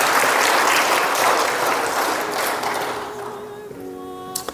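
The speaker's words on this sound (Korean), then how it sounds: "감사의 박수 한번 주실래요, 여러분?" Audience applause at a gathering honoring missionary descendants who received a national founding medal: loud, dense clapping that holds steady, then thins and fades near the end as a voice begins.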